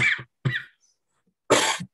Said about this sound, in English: This is a non-COVID cough